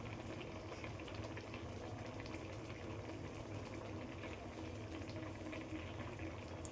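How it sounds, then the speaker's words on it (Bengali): Liquid boiling steadily in a cooking pot for a Bengali vegetable dish, a dense, continuous bubbling roar that stays close and even throughout, with no talking. "এটা ফুটছে"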